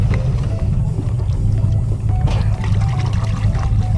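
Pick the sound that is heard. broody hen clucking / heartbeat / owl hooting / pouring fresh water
pouring fresh water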